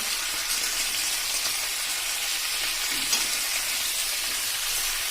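Thin potato slices fry in oil in a wide, flat-bottomed pan over a full gas flame, giving a loud, steady sizzle with an occasional soft stir, no voices.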